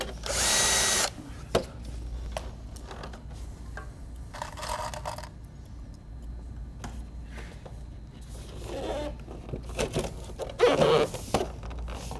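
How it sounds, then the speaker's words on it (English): A power drill whirs in a few short bursts into a metal roof at chimney flashing, against a steady mechanical hum, with scattered clanks and rattles of metal between runs. "Let's go ahead and re-drill these ones too."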